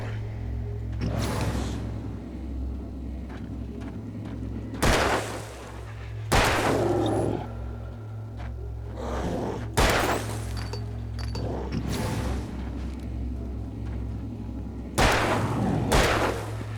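Repeated gunfire in the horror action game Alan Wake, several sharp loud shots spaced a few seconds apart over a steady low rumbling game background with no talking.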